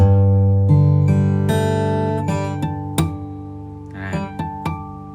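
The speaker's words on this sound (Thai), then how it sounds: "ฮาร์โมนิกก็คือการเอานิ้วแตะตรงเฟรดไว้นะครับไม่ใช่กดลงไป" Bell-like, ringing natural harmonics on an acoustic guitar plucked one after another over a sustained low bass note, each chime bright and lingering as it slowly fades.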